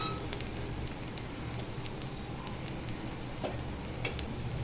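Karandi omelette of egg frying in a ladle over a medium flame, a steady quiet sizzle with faint crackles and occasional light pops, alone without talking.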